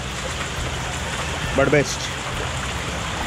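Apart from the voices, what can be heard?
rain falling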